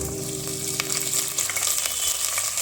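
Potatoes go into onions already frying with whole black pepper, a loud close sizzle with brief stirring scrapes and no voices.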